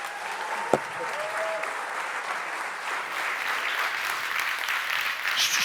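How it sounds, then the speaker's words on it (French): An audience applauding graduates at a school ceremony: sustained, dense clapping from a large crowd, steady and even throughout, beginning right after a single sharp knock. "Je pense qu'on peut l'applaudir vraiment très très fort"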